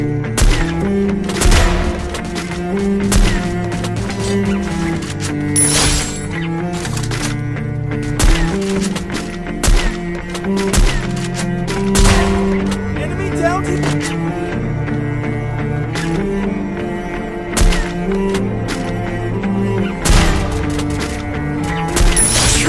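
Sniper and rifle fire in a shooting video game, repeated sharp gunshots and thuds over a steady game soundtrack, loud and continuous throughout.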